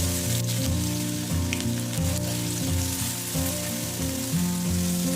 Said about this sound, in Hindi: अब इस पेस्ट को अच्छी तरह भून लेंगे